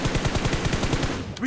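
Rapid automatic gunfire in the mobile game BGMI, a fast steady run of close, loud shots that stops abruptly near the end, followed by a brief tonal game cue.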